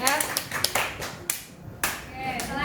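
A presenting group in a geography class on disaster mitigation is given sparse, scattered claps and taps from classmates in a room, with murmured voices underneath.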